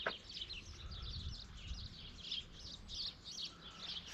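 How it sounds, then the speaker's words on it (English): Birds chirp along a hiking trail in Malta, repeated high tweets and short calls coming from nearby over a low rumble of wind and footsteps. "And here the birds."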